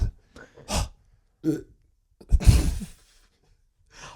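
A few short throaty vocal bursts with pauses between, ending in a longer, louder belch-like sound close to the mic.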